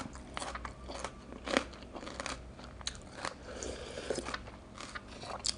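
Close, loud crunching bites and chewing of crunchy, bitter wild bitter gourd, a series of crisp cracking bursts with short pauses between them, and no talking.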